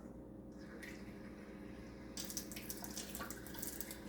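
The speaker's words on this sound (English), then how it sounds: "I'm adding in 2/4 cup of water." Water runs steadily from a tap, growing brighter and splashier partway through as it fills a measuring cup nearby.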